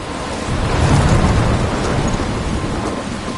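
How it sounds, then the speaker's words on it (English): A thunderstorm with heavy rain in the video game Life is Strange, a loud, continuous roar of downpour with a deep rumble of thunder swelling early on, no talking. "I'm trapped in a storm?"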